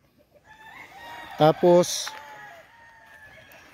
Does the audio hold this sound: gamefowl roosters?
yes